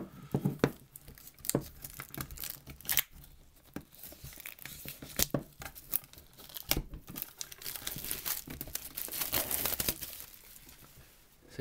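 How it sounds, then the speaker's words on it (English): Cellophane wrapper is torn and peeled off a Pokemon White Kyurem EX card tin, giving quiet close crinkling and irregular tearing crackles with scattered sharper snaps throughout. "So yeah, just to get all the cellophane off."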